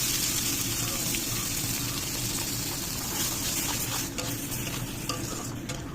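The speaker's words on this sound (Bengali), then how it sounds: "এবার এর মধ্যে ঢেলে দেবো আমার পাতা বাটাটা" Bottle gourd leaf paste, ground with green chilli and garlic, sizzling steadily in hot oil with turmeric and salt while being stirred, a close, continuous frying hiss with scraping stirs.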